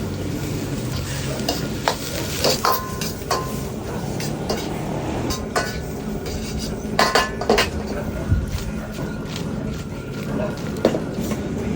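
Squid, mussels and shrimp stir-fried for seafood fried rice in a pre-seasoned wok, with loud continuous sizzling and repeated sharp clinks and scrapes of a metal spatula against the pan.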